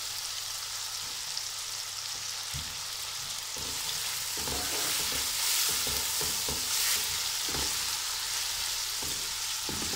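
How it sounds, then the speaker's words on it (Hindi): Tomatoes with garlic-ginger paste sizzle steadily in a pan while a spoon stirs them with repeated scraping strokes, close and continuous, with no talking. "इसको अच्छी तरह से ज़रा मिक्स करके थोड़ा थोड़ा सा भून के"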